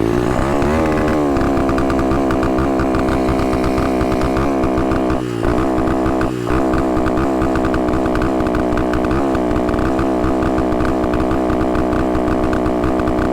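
A small 150cc four-stroke mini supermoto engine revs loudly and steadily for the whole stretch, with a brief dip and surge partway through, buzzing and close.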